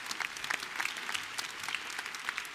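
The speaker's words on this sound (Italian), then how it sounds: "Un applauso." Audience at a university award ceremony applauds, a steady dense patter of clapping hands from a hall full of people, moderately loud and continuous throughout.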